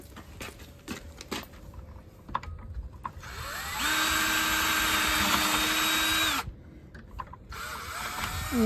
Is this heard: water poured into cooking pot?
no